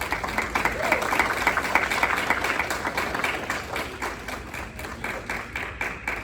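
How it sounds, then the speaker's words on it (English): An audience at a Nanbudo martial arts tournament in the USA applauds the parents, steady rhythmic clapping lasting throughout at moderate loudness, with faint voices underneath. "A round of applause for the parents"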